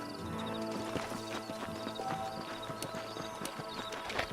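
Horses in the Red Dead Redemption video game clop along a canyon trail, a busy layered patter of hooves from several animals with an occasional whinny, steady and moderately close, with no talking.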